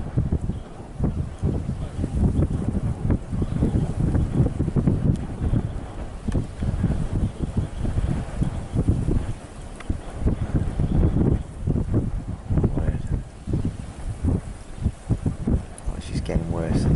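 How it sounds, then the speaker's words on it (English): Strong wind sweeps a hilltop as a wildfire spreads quickly in Cyprus, a loud, continuous buffeting roar across the microphone with a voice speaking over it. "Extremely windy."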